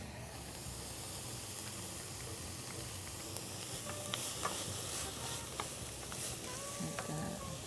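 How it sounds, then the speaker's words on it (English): Garlic sizzles and fries in a pan during soup-making, a faint, steady hiss with occasional light stirring clicks and no talk. "let's go ahead and add our garlic."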